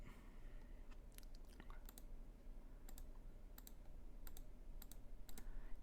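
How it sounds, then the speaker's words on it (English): Fingers tapping numbers into a calculator, a series of quiet, sharp clicks in irregular clusters over faint background hum. "Pull up a calculator. I'm a slow typer."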